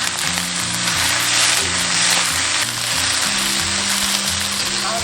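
Bean sprouts and lettuce leaves stir-fried in hot oil in a wok, a loud, steady close-up sizzle with scraping stirs running throughout, no talking.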